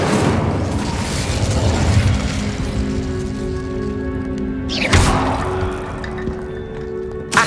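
A fire spell going off inside a tomb in the video game Hogwarts Legacy, a loud rumbling whoosh with crackling texture, a sharp burst near the middle, then a lingering low hum and a brief thump at the end.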